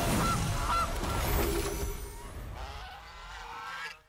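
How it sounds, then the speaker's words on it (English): A goose honk sound effect from the MTG Arena card game plays twice in quick succession, fairly faint and clean, followed by soft game tones. "Give him a little honk of the goose."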